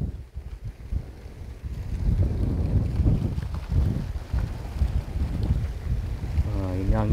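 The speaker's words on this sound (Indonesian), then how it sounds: "Nah, ini anginnya kencang ini" Strong wind gusts across open rice fields in the dry season, a loud, constant low rumble buffeting the microphone, with faint talk underneath.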